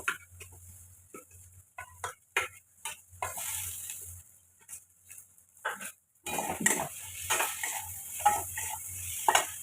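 Pre-fried potatoes being stirred and sautéed in a pan: a soft sizzle with irregular scrapes and knocks of a utensil against the pan, growing louder and denser partway through.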